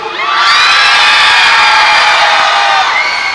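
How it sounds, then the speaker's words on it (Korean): A huge outdoor K-pop concert crowd on a Seoul boulevard roars, shouts and cheers at full volume, a dense wall of high voices that holds for several seconds before easing slightly. "뒤쪽 관객들에게 함성이란 이런 것이다 소리 질러!"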